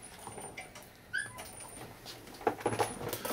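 A small chihuahua whimpers faintly indoors, giving thin high whines and a few soft yips in short bursts with quiet gaps between them.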